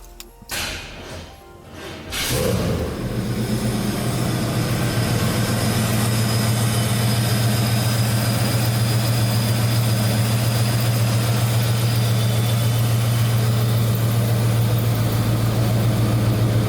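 A Holden VP Commodore running a swapped-in 5-litre V8 fires up after a brief cranking, then settles into a loud, steady, low idle with a constant deep drone held close for the rest of the stretch.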